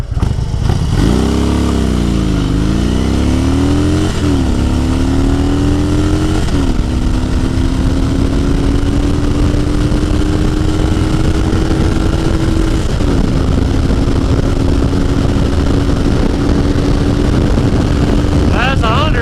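A 2012 Harley-Davidson Dyna Switchback motorcycle accelerates hard in a long pull, its engine note climbing steadily through several gear shifts, loud and close throughout with a rider's voice briefly heard over it.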